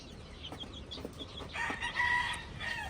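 Backyard pet chickens clucking softly while a rooster lets out a clear crow midway, close and fairly quiet, with no one speaking.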